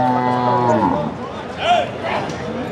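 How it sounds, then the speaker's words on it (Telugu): Buffaloes moo at the Erragadda buffalo market in Hyderabad: a loud, drawn-out, deep call in the first second, followed by shorter, rougher lowing close by against a busy market background. "ఇవన్నీ బర్రెలు."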